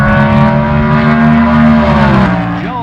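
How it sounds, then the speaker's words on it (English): Big block 427 Camaro launching at a 1974 NHRA Springnationals drag race, a loud, sustained engine roar with a steady pitch that fades slightly as the car pulls away, no voices over it. "a tremendous start for Satmary in the big block 427 type Camaro"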